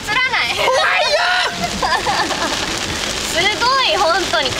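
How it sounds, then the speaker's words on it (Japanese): Heavy thunderstorm rain pounds steadily and loudly, a dense wash of drumming drops heard during a summer car-camping road trip, with people talking excitedly throughout over the downpour. "何これ雨 すごいわマジで"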